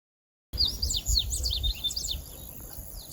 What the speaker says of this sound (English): we woke up surrounded by the sounds of birds and crickets